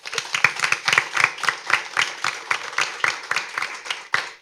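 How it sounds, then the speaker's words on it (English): A studio audience at a school debate competition claps for the judging panel, a fairly small group whose individual hand claps stand out as a quick, uneven rhythm, close and alone. "Please give our panel of judges a round of applause."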